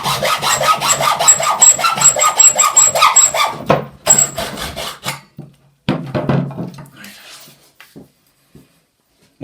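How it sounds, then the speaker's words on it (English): A hacksaw cuts a 20mm piece held in a mitre block with 45 and 90 degree slots, in quick, rhythmic rasping strokes. The sawing is close and loud for a few seconds, then stops, followed by a few scattered knocks and handling sounds. "We'll put that into there with the hacksaw."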